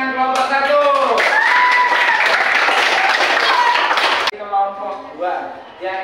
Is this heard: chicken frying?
no